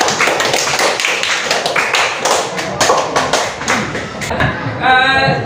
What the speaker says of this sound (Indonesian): Kasih aplaus dulu untuk teman-temannya.